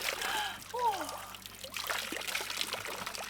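Cold mountain water trickles and splashes softly on Mount Olympus in Greece, a faint, uneven spatter heard alongside nearby voices.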